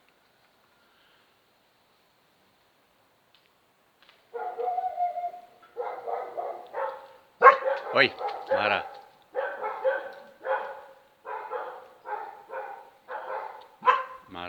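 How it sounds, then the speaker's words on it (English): Mara, a dog in a rural garden among olive trees on the island of Rhodes, barks in repeated bursts alongside other dogs after a quiet start. A person briefly calls out between the close, moderately loud barks. "Mara's barking because the other dogs are barking."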